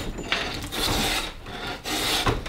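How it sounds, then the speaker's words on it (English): A draw knife scrapes and rasps along a white oak log, peeling off the bark in repeated long strokes, loud and close, with brief pauses between pulls. "we're gonna peel this bark off"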